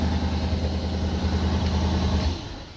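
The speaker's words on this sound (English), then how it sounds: "That noise, I'm pretty sure, is the exhaust noise" Steady low rumble of a 2003 Cadillac DeVille's engine and exhaust idling, with the secondary air injection pump's constant mechanical hum running underneath, fading slightly near the end.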